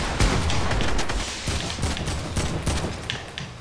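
Gunfire in the video game Fortnite, with dense, overlapping bursts of rapid shots that run without pause as a loud, steady barrage and no voices.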